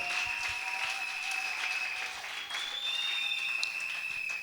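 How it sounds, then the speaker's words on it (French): Church congregation applauding loudly for the king of kings, a dense, steady wash of clapping that holds at an even level throughout, with faint sustained tones running beneath it. "Acclame ça. très fortement pour le roi des rois"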